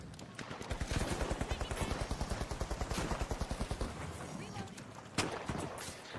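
Rapid automatic AK rifle fire during an esports shooter match, a steady stream of evenly spaced shots for several seconds followed by a few isolated cracks, under casters' commentary.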